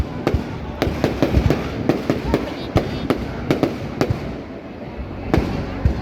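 Fireworks celebrate New Year's Eve 2024 in Vung Tau, Vietnam, with a rapid, uneven stream of loud booms and crackling bursts over a steady rumble from the wider display.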